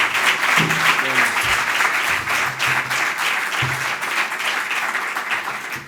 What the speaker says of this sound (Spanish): Creo que merecen un aplauso los tres.